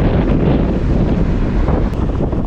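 Strong wind on a tropical island shore buffeting the microphone, a loud steady rumbling roar with gusty texture throughout and no voices.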